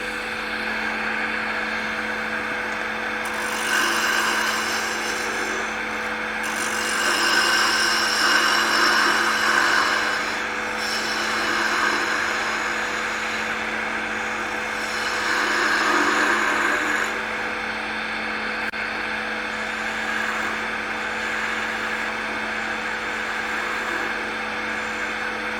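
A wood lathe spins steadily while a gouge turns a holiday ornament, a continuous mechanical whir with a high cutting hiss that swells and eases in several passes.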